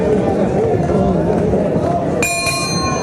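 Large boxing crowd at the Plaza de Toros in Mexico City for Julio Cesar Chavez's farewell fight against Frankie Randall roars in a loud, continuous wash, with voices under the noise and a bell ringing near the end.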